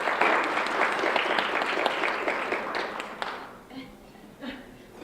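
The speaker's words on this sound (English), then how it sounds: "round of applause" An audience applauds presenters at a talk on Title IX and the Clery Act, with dense, steady clapping for about three seconds that then thins and fades to scattered claps and faint room noise.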